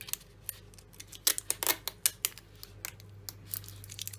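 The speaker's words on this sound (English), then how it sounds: "then you take some of this sticky tape that they've given you in the kit, and then you sticky tape around that end" Sticky tape from a paper palm mirror kit being pulled and wrapped around an end, heard as close, faint crinkles and sharp little tearing snaps over a low hum.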